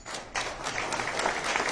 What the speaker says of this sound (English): So I just want to give a round of applause to our grant